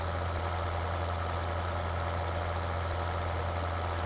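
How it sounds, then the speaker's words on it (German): Steady idling tractor engine from Landwirtschafts-Simulator 2013, a farming video game, running as a constant low hum with a strong low-frequency drone throughout, with no talk. "das ist der zweitstärkste Traktor im ganzen Spiel"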